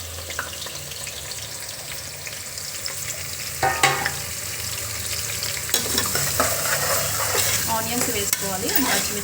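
Onions sizzle steadily in hot oil with bay leaves and shahi jeera for a country chicken curry, while a spoon stirs and scrapes the pan in bursts. The clatter grows more frequent and louder toward the end.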